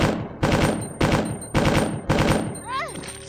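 Four rapid bursts of automatic gunfire from a weapon in Resident Evil 2, each a dense rattling volley aimed at a regular zombie, followed by a short warbling groan-like sound as the firing stops.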